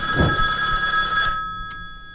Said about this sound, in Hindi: और फोन बजा